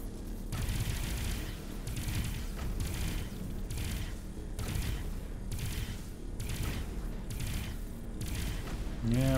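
A cannon turret fires repeatedly in the space game Avorion, heavy booming shots in a steady rhythm about every 0.8 seconds, loud and continuous over a rumbling background.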